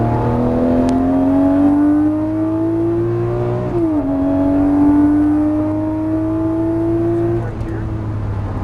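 Lamborghini Murciélago engine on the Las Vegas Motor Speedway track climbs in pitch under load, dips sharply on a shift, climbs again, then drops on a downshift; loud and close, with a voice talking briefly.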